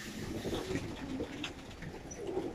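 Kamagar pigeons coo in low, soft, repeated phrases close by, with a steady background murmur and faint higher chirps scattered throughout.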